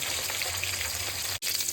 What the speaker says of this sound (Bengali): আগে মাছগুলো সব ভাজা করি, খুব সাবধানে